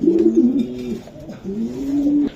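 A racing pigeon coos twice close by, each a low, throaty rolling call about a second long, separated by a brief pause.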